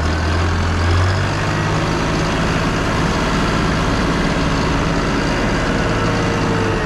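A new farm tractor's diesel engine runs steadily at idle, a close, continuous low rumble with a slight shift in pitch near the start, with no talking over it.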